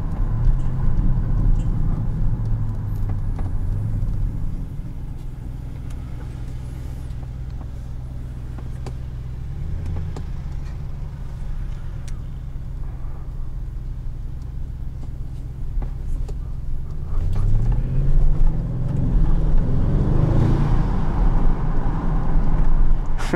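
An Audi RS6 drives on an everyday road, its engine a steady low drone from inside the car that dips, holds, then swells louder as it accelerates near the end, with no talking.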